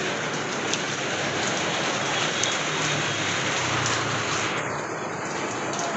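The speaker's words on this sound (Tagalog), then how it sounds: "Bigla-bigla lang bumubuhos eh." Steady, sudden downpour of heavy rain, a constant dense hiss of water drumming on surfaces with no break.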